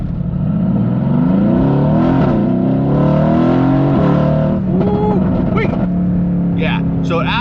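Exotic sports car accelerating hard, the engine note climbing in rising harmonic sweeps through several gear changes, loud and close, with voices talking over it.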